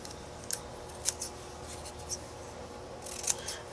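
Scissors snip through paper for a card-making journal project, a few quiet, crisp cuts spaced apart over a faint background; the scissors are larger than the job needs.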